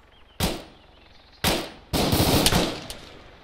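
Suppressive gunfire in the Arma 3 military game: a single sharp shot, another a second later, then a longer sustained burst of rapid fire. The reports are loud and close, with no talk over them.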